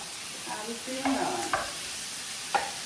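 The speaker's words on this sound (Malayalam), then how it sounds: "അപ്പൊ ഒരുമിച്ചിട്ടിട്ട് നമ്മളങ്ങ് ഫ്രൈ ആക്കി വറുത്തങ്ങോട്ട്" Prawns fry in a pan at home, giving a faint sizzle with a few soft scrapes and clinks of stirring, close by and without speech.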